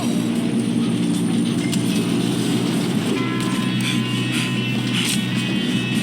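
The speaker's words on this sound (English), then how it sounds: "Come on, we need to stop this train." A moving train in the Red Dead Redemption 2 video game rumbles steadily throughout, a dense low mechanical drone with rattling, ratchet-like clatter and intermittent metallic squeals layered on top, loud and continuous with no pauses.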